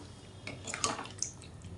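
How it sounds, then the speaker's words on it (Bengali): Water poured into a pan of boiled potatoes and spices gives a brief, quiet splash and trickle with a couple of small drips, close by and alone. "তো চলো একটু জলটা দিয়ে দিই"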